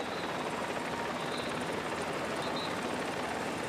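A helicopter flies over a professional cycling road race in Italy, its rotor giving a loud, steady, continuous chopping drone throughout with no voices.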